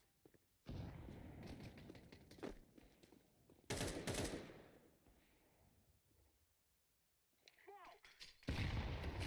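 A grenade goes off in a Counter-Strike Premier match, one loud, sharp blast followed by a decaying rumble, set among other gunfire and game noise with a voice talking at times.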